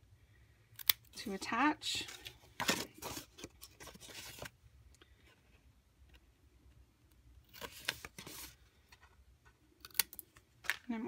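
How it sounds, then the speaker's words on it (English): Scissors snip the corners off paper pieces for a box scene card, giving short, close crisp cuts and rustles in brief bursts while a person talks quietly over them. "The first thing that I do is cut off my little corners."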